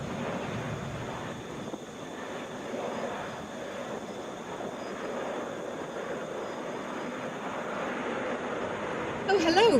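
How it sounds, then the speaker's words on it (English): A Southwest Boeing 737 MAX 8 touches down at Atlanta airport, a steady broad roar of engine and rushing air holding at even loudness throughout, with a short louder burst at the very end. "This is Southwest 960 coming in from DC. Boeing 737 MAX 8. Touching down 3 minutes ahead of schedule."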